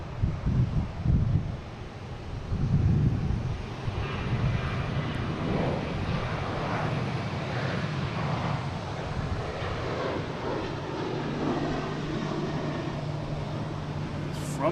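A large airliner landing at Boston Logan airport, a distant steady jet roar with wind buffeting the microphone, loudest near the start and then holding level.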